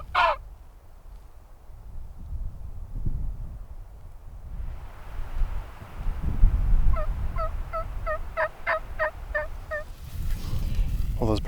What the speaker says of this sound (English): we just heard a hen yelp right over this ridge